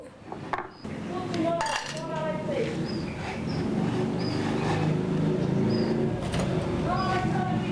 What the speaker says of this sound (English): First thing I'm going to do is cut the palm sugar. And add to the pan.